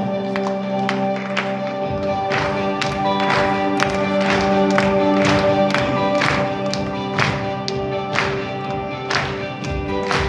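Worshippers in a Portuguese-language church service clap their hands in a regular, rhythmic beat over sustained music, the claps crisp and evenly spaced for several seconds.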